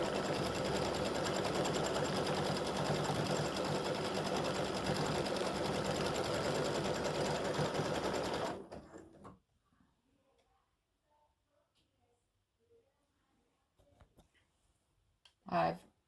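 An embroidery machine stitches an appliqué tack-down on beard fabric with a loud, rapid, continuous mechanical chatter that stops abruptly, followed by faint handling clicks and a brief voice near the end.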